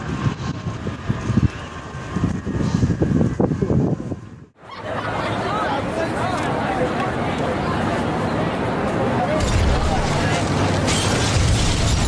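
Tower building brought down by explosive demolition with a 400-kilogram final charge: a loud rumbling blast and crash of collapsing structure, then a sustained roar of debris and dust that carries on steadily to the end.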